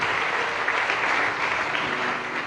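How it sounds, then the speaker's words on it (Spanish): Church congregation applauding during a Spanish-language Sunday service, a dense, even spread of clapping from many hands, sustained and fairly full throughout with no speech over it. "Den un gran aplauso al Señor."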